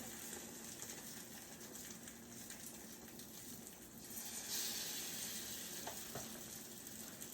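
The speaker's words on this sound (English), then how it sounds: "Hear that nice sizzle?" Steady, quiet sizzling of French toast frying on a hot griddle, a continuous crackling hiss that swells slightly partway through.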